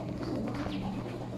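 Racing pigeons in a loft coo softly and continuously, a close, low, throaty burble against a dense background of flock sounds.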